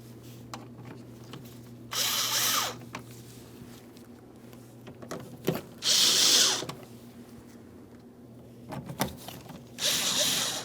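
Cordless power drill snugging up the mounting screws of a front door speaker in a 2005-2010 Chrysler 300, three short whirring bursts separated by quiet pauses, each about half a second to a second long, with faint clicks between.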